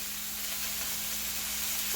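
Frozen chopped shrimp frying in a pan, giving a steady dense sizzle with a low hum beneath, heard alone throughout.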